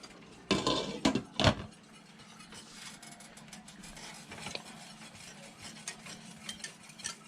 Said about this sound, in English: working all that milk and flour together